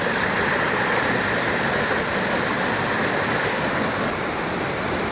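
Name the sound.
Saraswati river flowing at night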